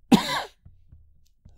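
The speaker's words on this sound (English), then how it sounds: "Coughing, man." A single close cough from a man, a sharp burst followed by a short trailing rasp, then a few faint low clicks and a quieter throat sound in a quiet room.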